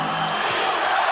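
Dense basketball arena crowd during the 1991 NBA playoffs, a loud continuous roar of cheering and shouting that fills the whole moment without letup.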